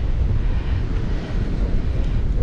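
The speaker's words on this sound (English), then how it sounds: "But the sand's being whipped up by the wind" Strong wind gusts roar steadily across a beach while sand is whipped up, a dense, rumbling buffet close to the microphone with no voices.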